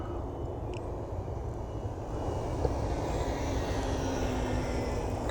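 Electric motors of a VTOL aircraft project run under test, a steady loud whirring drone with a dense low rumble that grows slightly louder partway through, with no talk.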